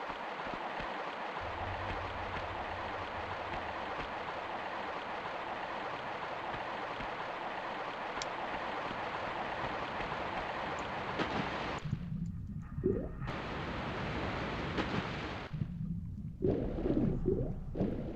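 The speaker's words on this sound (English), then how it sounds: "That was cool. I love that waterfall." A continuous rushing roar of a waterfall in the PS1 game Tomb Raider, a steady broad wash of falling water that briefly cuts out and returns near the end.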